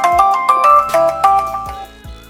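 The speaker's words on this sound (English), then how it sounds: "It rings your phone until you find it." A smartphone rings out a loud, repeating melodic ringtone, set off by the Find My Phone button on a Mobvoi TicWatch 2 smartwatch, with a short bright phrase sounding several times in a steady rhythm and no voices.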